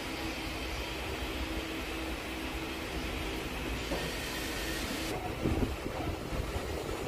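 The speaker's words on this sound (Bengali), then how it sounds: "আটটাতেই ট্রেন ছাড়লো।" A Ranaghat-Krishnanagar local train via Shantipur pulling out of the station, a steady low rumble and rattle with wind noise, continuous and fairly even throughout.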